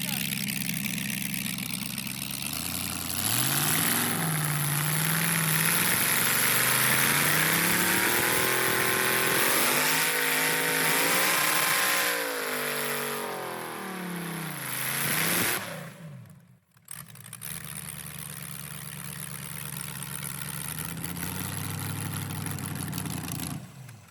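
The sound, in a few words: car with 4L60E transmission revving, trying third gear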